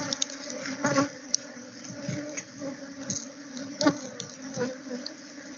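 Honey bees buzz steadily close by in a dense drone while stinging a plastic plate to release venom, with scattered clicks and small taps over the humming.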